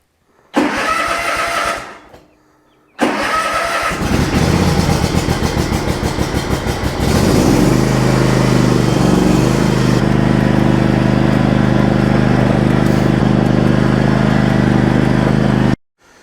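A Toro lawn mower engine, left sitting through a long winter, cranks briefly, pauses, then cranks again and catches, settling into a loud, steady idle that runs close up until the end.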